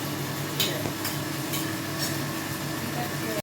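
Potatoes stir-fry in a pan, a steady close sizzle with a few sharp scraping strokes of the spatula about every half second, ending abruptly.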